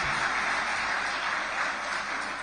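Steady crowd applause at a live morning television broadcast, a dense hiss of many hands clapping that holds at an even level throughout.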